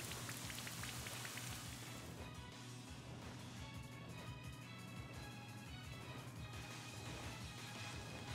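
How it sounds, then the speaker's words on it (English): Rain from the Rain Dance move in Pokemon Sword plays as a steady synthetic downpour hiss with crackling drops, continuous and even beneath layered game music tones. "Did not mean to do rain dance."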